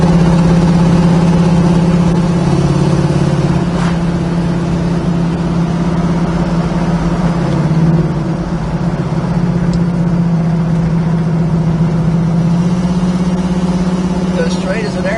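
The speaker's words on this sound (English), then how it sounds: "Got a real nice sound of exhaust on it." A 1971 Ford Torino GT engine idles with a deep, steady exhaust rumble throughout, loud and close, with small surges in pitch now and then.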